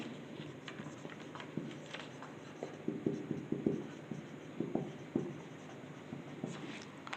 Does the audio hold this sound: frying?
no